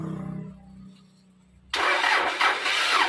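A starter motor cranks briefly, then a Dyna 130HT engine catches and roars to life, running loudly and steadily close by.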